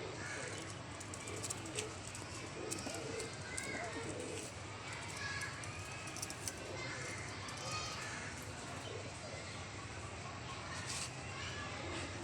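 A breeder pair of pigeons coo softly amid steady background noise, with faint children's voices and chatter in the distance throughout.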